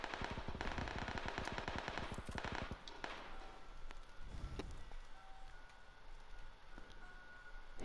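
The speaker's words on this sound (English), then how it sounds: "He's got a little machine gun, I can hear him." Rapid machine gun bursts in the battle royale game PUBG, a fast rattling string of shots up front that thins out, followed by scattered more distant gunfire under steady game ambience.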